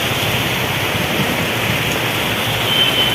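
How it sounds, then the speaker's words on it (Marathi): Dense, steady rush of heavy unseasonal evening rain falling over the market yard area of Karad town, a constant broadband hiss with no pauses or voices. "कराड शहरात मुसळधार अवकाळी पावसाच्या सरी"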